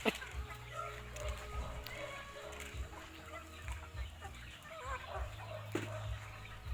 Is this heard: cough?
no